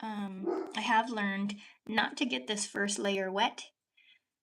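A dog barks in the background while someone talks steadily over it during a layered painting session; the barks are brief and partly masked by her voice.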